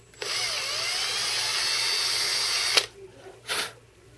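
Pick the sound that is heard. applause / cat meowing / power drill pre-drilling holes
power drill pre-drilling holes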